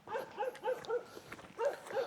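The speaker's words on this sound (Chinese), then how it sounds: "另一边好像也有狗叫。" A dog barks repeatedly in a Chinese mountain village, a rhythmic run of six or so mid-distance barks with a short pause before the last pair, fairly faint and with no voices.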